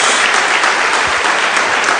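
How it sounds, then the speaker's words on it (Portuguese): A church congregation gives loud, sustained applause, a dense continuous clatter of many hands that stays full and even throughout. "Dê uma salva de palmas a Jesus"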